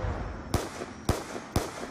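Guns fire in the zombie mode of Call of Duty: Black Ops 2, three evenly spaced, punchy single shots ringing out over a steady background hum, with no talking.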